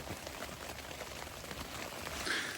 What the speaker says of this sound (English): even though it's, you know, raining